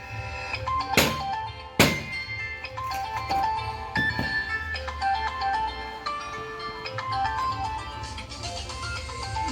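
A mobile phone ringtone for an incoming call plays as a bright, repeating electronic melody of short tonal notes, fairly loud and close, with a couple of sharp knocks near the start.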